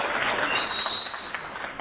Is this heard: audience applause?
yes